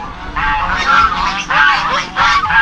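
A flock of geese on a rural property honks in loud, overlapping bursts that come in three clear waves, close by and with no talk over them.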